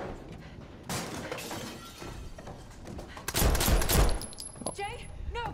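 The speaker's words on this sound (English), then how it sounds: "Who's shooting?" Call of Duty Black Ops 6 gunfire mixed with shattering glass, a dense crackling volley that swells loudest near the middle, over game noise and voices.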